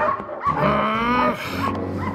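A small cartoon dog gives quick, high yips and whimpering barks at close range, several short calls running together.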